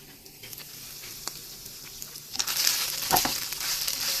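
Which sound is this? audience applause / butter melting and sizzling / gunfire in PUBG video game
butter melting and sizzling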